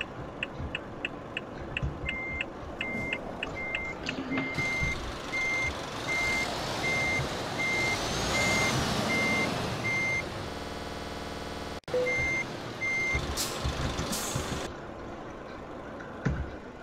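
Steady electronic reversing beeps from a MAN TGX 640 truck in Euro Truck Simulator 2, sounding in a regular repeating rhythm over a continuous engine and air hiss, pausing briefly before resuming.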